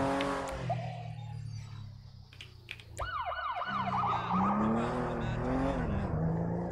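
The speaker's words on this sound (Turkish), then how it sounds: "Şimdi sireni aç." A police car siren switched on in a GTA roleplay video game, its rising and falling wail starting partway through over steady engine noise, loud and close with faint talk beneath.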